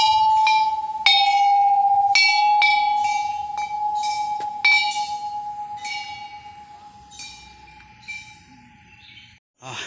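Temple bells struck again and again at irregular intervals along a temple stairway, bright clangs ringing over a steady lingering hum.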